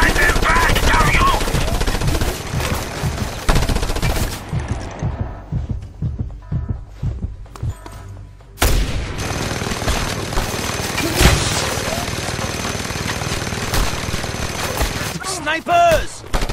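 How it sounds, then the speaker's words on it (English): Mounted machine gun fire in the Just Cause 2 video game, a dense, loud barrage of rapid bursts that drops to a thinner rumble mid-clip before surging back with heavy continuous fire. "That mounted gun! It's tearing us to shreds!"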